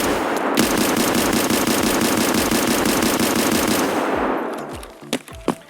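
Rapid, loud SKS rifle fire in the video game Escape From Tarkov, a steady string of shots for about four seconds, followed by a few scattered single shots and handling clicks.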